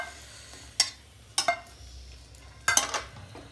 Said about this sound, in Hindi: छन्ना गोला फ्राई हो चुका है। अब हम इसको प्लेट में निकाल देंगे।